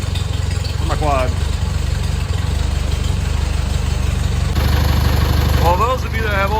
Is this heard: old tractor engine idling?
yes